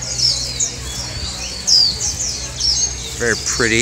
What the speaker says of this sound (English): I'm not quite sure what kinds of birds these are.